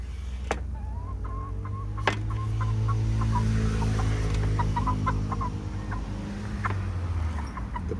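Native chickens feeding outdoors on cut-up pieces of food, with a few faint clucks and pecking sounds over a steady low hum throughout.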